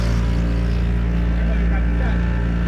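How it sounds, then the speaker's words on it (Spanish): A motorboat engine drones steadily and loudly out on a lagoon, a constant close low hum with water noise throughout and no break. "Primera vez que manejo la lancha"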